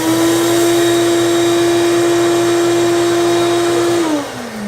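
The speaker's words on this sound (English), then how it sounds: "I want to show you the cyclone in action and show you how the dust settles down and then deposits when the vac is off" A shop vac with a cyclone dust collector roars loudly with a steady high whine, then winds down in pitch as it is switched off near the end.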